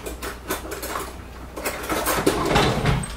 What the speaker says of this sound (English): I have some old spoons over here.